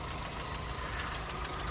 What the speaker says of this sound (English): As you can see, the car is running.